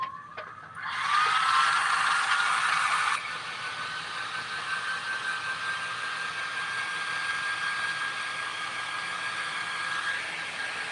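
A hair dryer whirs loudly and steadily while a snowman ornament craft dries, with a brief louder burst at the start before the airflow settles into a continuous hum.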